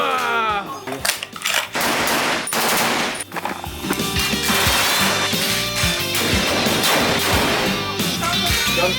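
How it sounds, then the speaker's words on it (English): Real firearms fire rapid automatic bursts and single shots, loud and echoing in a recording session for game sound design, with overlapping volleys throughout and voices calling out between them. "Gunfire, everyone!"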